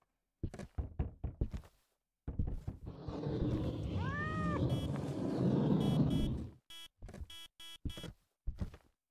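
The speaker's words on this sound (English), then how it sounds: "I heard a cat." A cat in the horror video game Demonologist gives a short rising meow amid dense rumbling noise, with footsteps or knocks before it and sharp clicks after, and a person talking at the start.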